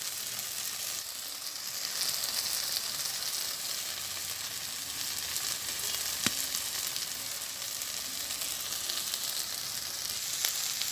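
Small fish sizzle steadily in hot oil in a pan during village-style cooking. The frying crackle stays close and continuous throughout, with a few sharper pops and no voices.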